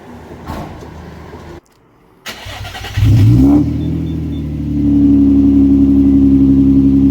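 Car with a Nissan VQ engine at a car meet: a loud engine burst swells and then holds a steady, droning rev close by, after a few quieter bumps and a brief drop-out.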